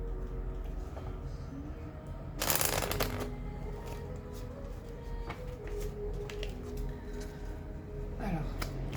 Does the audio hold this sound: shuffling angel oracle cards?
yes